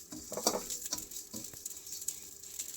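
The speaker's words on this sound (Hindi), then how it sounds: "इसे देखना चटर पटर हो गई है, थोड़ी देर अलसी भून लेती हूँ।" Flaxseeds roast in ghee with irregular, crisp popping and crackling over a light sizzle, the small snaps close and scattered across the whole stretch, with no talking.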